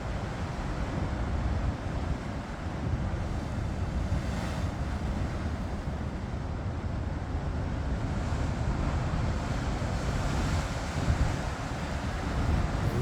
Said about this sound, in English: Wow, there's a lot of waves today.